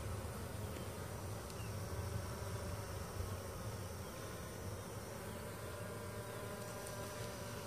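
Honeybees buzz around a hive in Belmont, a continuous faint droning hum of many insects with no voices, steady from start to finish.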